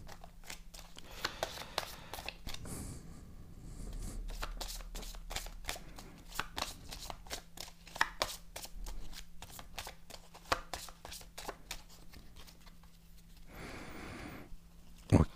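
A deck of oracle cards is shuffled and cards are drawn: soft, close riffling and sharp papery flicks come in irregular bursts, quiet overall, with a louder flurry near the end.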